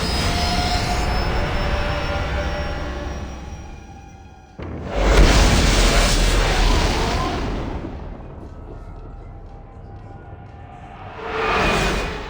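A spacecraft takes off in the Mass Effect 3 game: a steady engine roar first, then a sudden loud surge of rushing thrust that slowly fades, with a second swell near the end.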